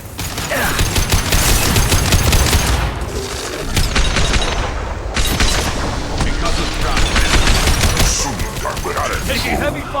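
Heavy, continuous automatic gunfire in the video game Mass Effect 2, loud and close, with rapid repeated shots and booming blasts layered through the whole stretch, voices barely audible beneath.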